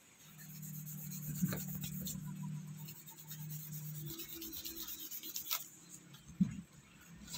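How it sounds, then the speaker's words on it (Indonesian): A wooden knife handle is sanded with 1000 grit sandpaper in close, quiet back-and-forth rubbing strokes that come in steady runs, with a couple of light knocks and no talking. "Ini di amplas pakai grit 1000 ya."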